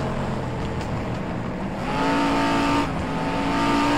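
1960s GT race cars brake hard into a corner, a loud, dense engine roar with faint tyre squeal building as the cars close in near and fast.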